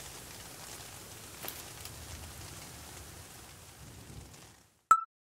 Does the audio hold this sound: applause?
no